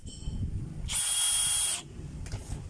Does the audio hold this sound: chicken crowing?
no